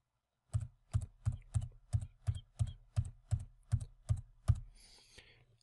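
Twelve even, evenly spaced taps on a computer keyboard's space bar, each a sharp muted click, followed by a faint rustle in an otherwise quiet room.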